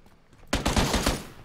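Gunfire from PlayerUnknown's Battlegrounds erupts abruptly as a quick rapid burst of several loud shots after a quiet moment.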